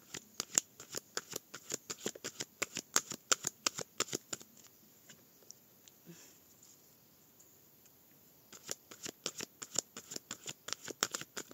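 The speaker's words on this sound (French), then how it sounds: "Allez, on va tirer 5 cartes." Tarot cards being shuffled and drawn, a quick run of crisp riffling clicks, a quieter pause in the middle, then another burst of rapid card snaps, close and fairly soft.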